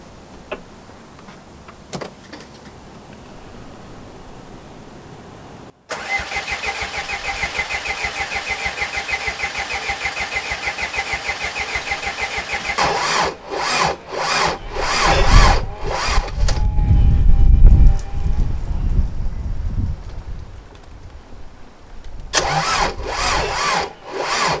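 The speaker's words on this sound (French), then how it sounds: "on va faire tourner le moteur pour voir s'il tourne correctement" A Renault Trafic van engine, just rebuilt, cranks repeatedly on a flat battery: a quiet pause, then a long laboured starter whir, followed by slow uneven bursts of cranking that fail to catch.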